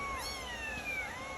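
Kittens meowing indoors, several thin high mews overlapping in a continuous, fairly close cluster with no talking.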